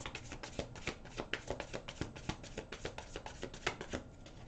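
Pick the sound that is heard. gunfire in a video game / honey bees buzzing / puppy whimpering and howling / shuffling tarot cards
shuffling tarot cards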